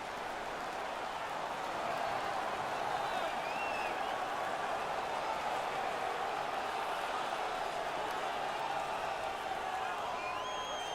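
Hockey arena crowd at a Buffalo Sabres versus Vancouver Canucks NHL game roars and applauds after a fight, a dense sustained wall of cheering and clapping with whoops rising over it.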